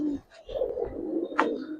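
A pigeon of the Giribaz or coloring breed gives a soft, low coo, close by, with a brief higher sound near the end.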